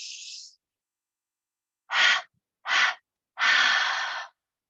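Breath is pushed out during a breathing exercise: one short exhale, a pause, then three forceful, close exhales in a row, the last one longer. No talking is heard.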